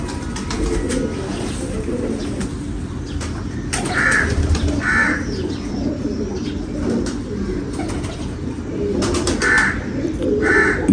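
Racing pigeons coo in soft, low murmuring bursts amid outdoor background noise, with several short, louder bird calls breaking in at intervals.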